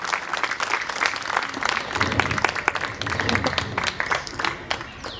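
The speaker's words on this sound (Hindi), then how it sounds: "एक बार और जोरदार तालियों से उनका स्वागत हो जाए।" Audience applause after a cultural dance performance at a festival program, steady clapping from a crowd that swells slightly midway, with faint voices mixed in.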